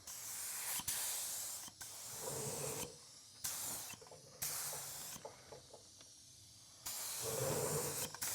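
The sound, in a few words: spraying adhesion plastic primer onto a headlight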